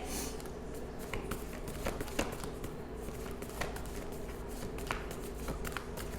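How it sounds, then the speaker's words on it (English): A deck of stiff tarot cards is shuffled, giving a quiet, continuous riffle of soft flicks and taps close up, with no talking. "That's the only thing about these cards. I don't use them in a long time. They so hard to shuffle."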